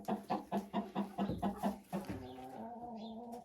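A laying hen sitting in her nest gives a run of rhythmic clucks, close by, that slide into a longer drawn-out call at the end.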